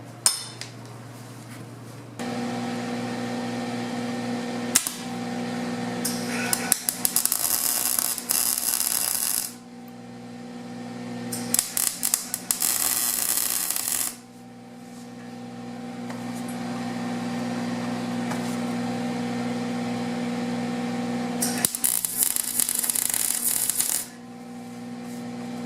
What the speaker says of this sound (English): I'm going to weld it to the frame